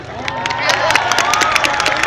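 Audience applause and cheering at a small live event after a child's name is announced over a microphone, a dense continuous patter of claps from a nearby group with scattered sharp hand slaps, steady over two seconds.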